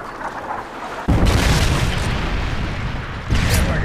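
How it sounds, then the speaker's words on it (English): A Predator missile strike in Call of Duty: Modern Warfare 3 lands with a sudden heavy boom, then a long rumbling roar that swells again near the end, loud and dense with low-end energy. "Friendly Predator missile inbound."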